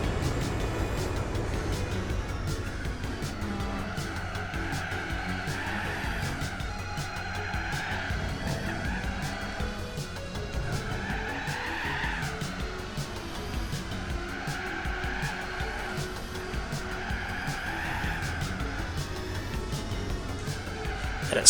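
Lancia rally car sliding in Gran Turismo 4, engine droning steadily while tires squeal and skid in repeated swelling bursts over about twenty seconds, with no talking.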